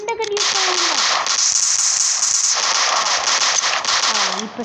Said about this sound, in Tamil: இந்த கன் யூஸ் பண்ணுறானுங்களா?